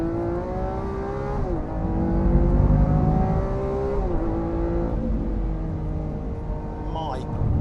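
A Lamborghini Aventador S engine revs and holds high through a lighter exhaust system, rising and dipping in pitch several times, loud and close, with a sharp shift near the end.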